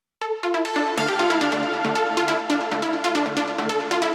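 A bright synth lead from an uplifting trance project in Cubase plays a sustained melodic line with rhythmic accents, loud and upfront with no talking.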